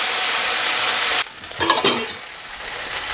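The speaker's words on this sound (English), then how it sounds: "So that spitting is actually moisture from the chicken." Chicken frying in oil makes a loud, dense sizzle that cuts off abruptly, followed by quieter spitting pops and a couple of sharper crackles.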